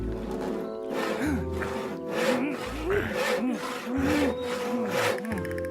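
Steady back-and-forth sawing through wood goes on throughout, with a deep animal-like growl or roar mixed in over a low hum.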